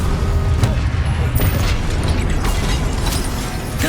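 A Confringo fire spell explodes in Hogwarts Legacy, a loud burst of booming blasts and crackling impacts layered over busy combat noise, with several sharp hits across a few seconds.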